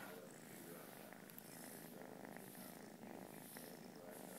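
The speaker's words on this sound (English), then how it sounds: "I can hear him purring up here." A Siamese cream point shorthair kitten purring steadily up close, a soft continuous rumbling purr lasting the whole stretch, faint and even with no talking.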